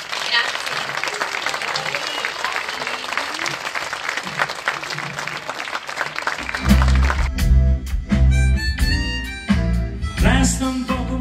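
Crowd applause at a basketball charity event, a steady dense patter of clapping for about six seconds before music with a beat and singing takes over.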